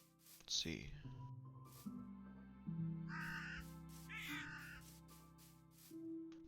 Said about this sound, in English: And I really love the crows that it spawns.